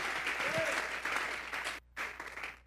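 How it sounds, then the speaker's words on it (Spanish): Church congregation clapping together as an offering of applause during a service, a dense steady wash of many hands with a brief dip near the end before resuming. "Vamos a regalarle ofrenda de palmas al Dios"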